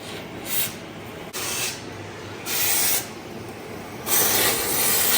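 Liquid Wrench penetrating oil hisses from an aerosol can onto old bolts in four separate bursts of close, loud spray, the last one longest, with a softer steady background hiss between them.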